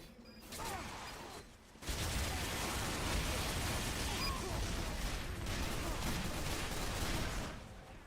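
Sniper gunfire in a multiplayer video game, a dense, loud burst of shots and game noise filling most of the stretch after a brief quieter opening, with no speech.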